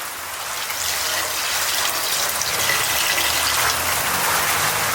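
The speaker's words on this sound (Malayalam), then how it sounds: "എന്തായിരുന്നാലും കുറച്ച് വെള്ളം നമുക്ക് ഒഴിക്കാം." Water gushing steadily into a pressure cooker while making a Kerala-style potty thoran, a loud, continuous pour that swells slightly as the cooker fills.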